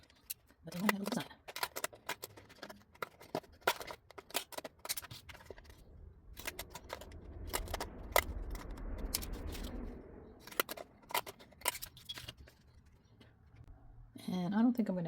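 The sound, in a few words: cutting paper with scissors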